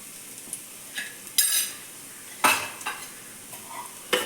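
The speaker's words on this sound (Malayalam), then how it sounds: "എണ്ണ ഒഴിച്ചിലേക്ക് ചുവന്നുള്ളി, ചതച്ച് വെച്ച ചുവന്നുള്ളി ഇട്ടു." Crushed shallots fry and get stirred in hot oil with turmeric and chili powder, heard as soft sizzling broken by scraping stir strokes that come and go at an uneven pace.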